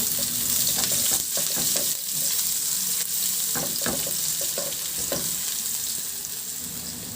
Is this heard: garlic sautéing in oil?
yes